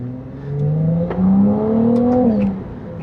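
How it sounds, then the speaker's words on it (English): A Ferrari 296 GTB Assetto Fiorano hybrid accelerates, its engine note rising in steady pitch sweeps with a faint turbo whistle and electric whine, heard from inside the car. "You can hear some turbo noise, you can hear some electric noises."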